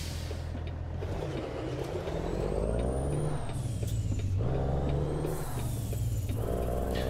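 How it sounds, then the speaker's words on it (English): Truck engine in American Truck Simulator revving and dropping as it downshifts, several rising and falling engine pitches with shift breaks between, a steady loud drone with a brief air hiss. "And the way I was downshifting there, a little bit with the clutch, and a little bit with the"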